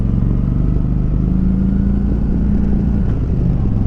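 Steady, loud engine drone from a 2019 Kawasaki Vulcan Vaquero cruiser motorcycle being ridden, with the throttle held in second gear, humming continuously with a low, even rumble and no talking.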